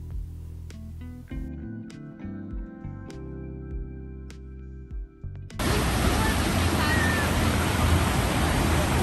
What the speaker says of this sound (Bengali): ঝর্ণার পানির শব্দ